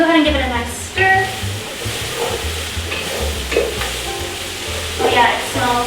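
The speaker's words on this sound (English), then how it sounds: "Add our squash to the onion pot here. Okay, gonna go ahead and give it a nice stir." Butternut squash stirred into a pot of cooking onions: a spoon scrapes and knocks in bursts over a continuous close sizzle, with brief rustling stirs spaced through it and no speech.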